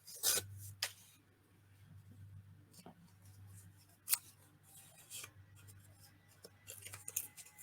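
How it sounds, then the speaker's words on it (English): Faint tearing and rustling of red and green paper being torn by hand for a Christmas journal, short rips and soft rubbing at close range in a quiet room. "And you just tear it and make it fit."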